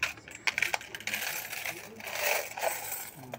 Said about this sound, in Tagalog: Daming barya, puro gold.